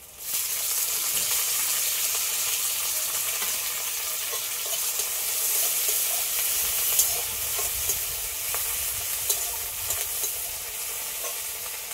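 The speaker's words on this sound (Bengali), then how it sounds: "এবার টমেটো কুচি দিয়ে দেবো।" Chopped tomato fries in a pan for a fish curry, a steady bright sizzle and hiss running throughout with scraping stirs and occasional clicks of a utensil, close and fairly loud, no voices.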